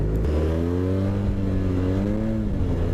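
A Yamaha T-Max 530 scooter engine revs and accelerates close by, with a steady droning pitch that rises and then falls back.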